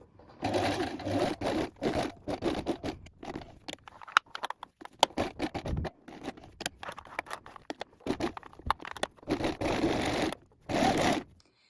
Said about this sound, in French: Vous allez allonger votre point sur 4 et donc coudre à 1 cm du bord.